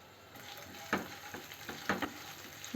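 Cashews sizzle in oil in a pan for sabudana upma with a steady crackle. A few sharp scraping stirs are heard near the pan.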